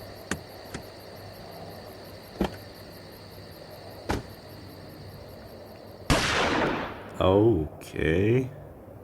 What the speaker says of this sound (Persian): الان شلیک کردم بهش